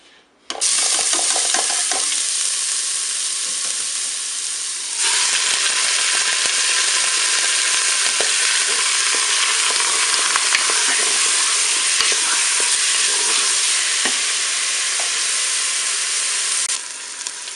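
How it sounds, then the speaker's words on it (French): Pork shoulder and onions brown in a Cookeo multicooker: a loud, dense sizzle starts abruptly and holds steady, with occasional stirring scrapes and a brief dip partway through. "je vais pouvoir faire revenir ma palette et mes oignons"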